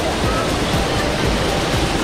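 Water waves wash at a spring resort pool in Liliw, Laguna, Philippines. It is a continuous, loud, rushing splash-and-surge noise with no pauses.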